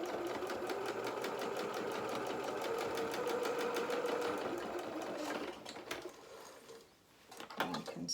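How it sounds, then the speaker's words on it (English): A sewing machine runs in a fast, even stitching rhythm for about five seconds while sewing a fabric elastic channel shut, then stops, leaving a few soft handling clicks and rustles. "take it to the sewing machine and just sew that edge shut"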